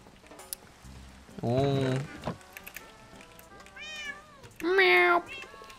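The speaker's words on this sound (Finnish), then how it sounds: "Täältä löytyy kissoja." Cats in the Minecraft video game let out a few distinct, close meows in separate bursts against a quiet background.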